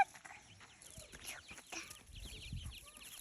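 A chicken clucks softly a few times in a quiet farmyard, faint and fairly near, with no one talking.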